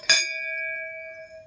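A metal bell at a white Shiv temple in Bemetara, Chhattisgarh, struck once with a sharp, close clang that leaves a clear, steady ringing tone slowly fading.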